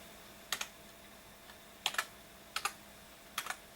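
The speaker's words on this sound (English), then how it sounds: "if I can type here" Someone types on a computer keyboard in short bursts of two or three close key clicks, separated by pauses, over a faint steady hum in a quiet room.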